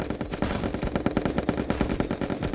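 A gun in a multiplayer party video game fires in a fast stream of sharp, evenly spaced shots, loud and close, with no voices over the burst.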